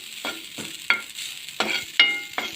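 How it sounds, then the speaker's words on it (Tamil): Grated coconut roasting in a pan, with about seven distinct scraping stirs spaced roughly every half second over a soft dry crackle, close and without talk. "தேங்காயில் உள்ள ஈரப்பதம் கொஞ்சம் போகிற வரைக்கும் நாம் வறுத்தா போதும்."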